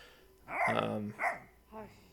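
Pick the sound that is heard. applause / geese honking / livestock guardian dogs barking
livestock guardian dogs barking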